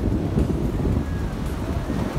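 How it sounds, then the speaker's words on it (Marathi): Sea waves at high tide near the beach at Alibag, heard as a steady, loud wash of surf mixed with wind buffeting the microphone, with no talking. "भरती चालू आहे म्हणून लाट आहेत ना या समुद्राच्या जवळ असेल ना"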